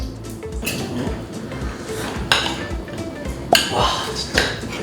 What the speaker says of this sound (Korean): 자, 한번 썰어보겠습니다.